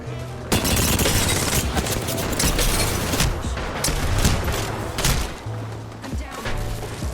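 Dense, continuous gunfire and explosions in a video game shootout, loud and chaotic with overlapping bursts and booms throughout.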